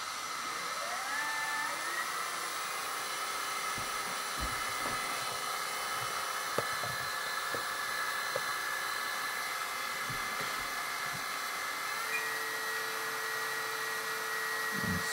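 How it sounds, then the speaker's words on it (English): A pump runs with a steady high whine and broadband hiss throughout during a hydraulic oil change on a Kobelco SK500 LC model excavator, continuous and close with no talking. "turn on the pump."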